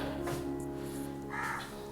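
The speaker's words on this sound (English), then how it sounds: "Just hear birds" Crows caw repeatedly around a bungalow, fairly close and loud over a steady low hum, with a couple of harsher caws near the end.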